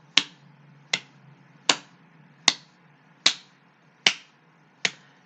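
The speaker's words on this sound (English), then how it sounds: "Now just the claps." Seven sharp hand claps ring out alone at a slow, even pace, each crisp and close with a short decay, spaced under a second apart against a faint low hum.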